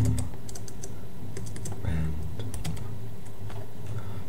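Keys clatter on a computer keyboard as a script name is typed, a quick scattered run of close, light clicks over a steady low room hum, with no voice.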